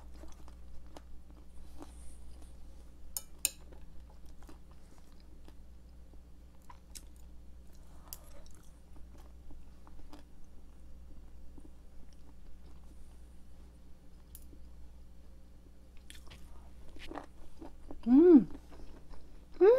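Someone chews air-fried vegetables with mushrooms and sriracha sauce, giving soft, close, intermittent crunches and squishy bites over a quiet low hum, with brief speech near the end.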